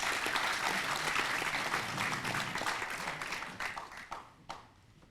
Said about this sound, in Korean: 제 말씀에 공감하시면 박수 한번 쳐주시기 바랍니다